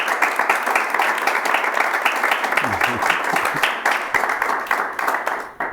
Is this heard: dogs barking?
no